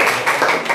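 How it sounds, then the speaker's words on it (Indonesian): A classroom of students claps their hands in a dense, close round of applause lasting under a second. "Tepuk tangannya mana?"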